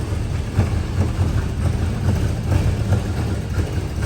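A 1981 Pontiac Trans Am engine idling steadily, its low rumbling hum continuous and fairly loud with no one speaking over it.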